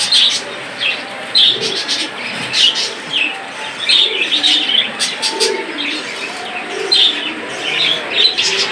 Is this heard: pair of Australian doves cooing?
yes